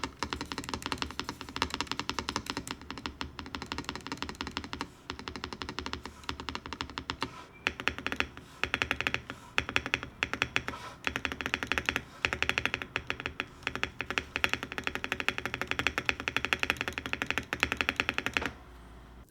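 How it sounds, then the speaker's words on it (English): Typing on a NuPhy Halo75 V2 mechanical keyboard with silicone dampeners, first with a normal spacebar and then with a Ghost Bar. A dense run of close, crisp key clacks and thocky spacebar hits plays alone, with a brief pause midway. "Here's a comparison between normal spacebar and Ghost Bar."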